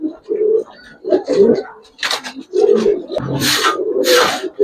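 Racing pigeons, including silver Giribaz and black-tailed birds, coo in deep repeated throaty bursts close by, several overlapping calls with bright rustling between them, under someone talking.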